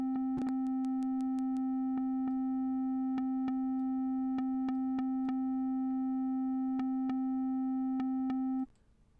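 The Arturia ARP 2600V sequencer sounds a steady sustained synth tone while the clocked signal fires in short, sharp clicks spread across the note. The tone cuts off near the end, and there is no talking.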